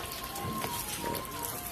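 Water poured steadily onto a freshly cast concrete slab for curing at the Gautam Buddha cricket stadium construction site, a continuous rain-like patter and splash of moderate loudness with no voices.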